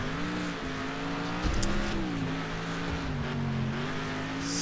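Race cars in a gravel race in Next Car Game drone with a steady engine hum that rises and falls as they shift and jostle, loud and continuous with a brief rattle of contact.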